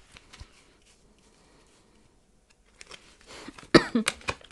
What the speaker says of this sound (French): Je suis vraiment désolée, cette toux ne me lâche pas depuis quelques heures.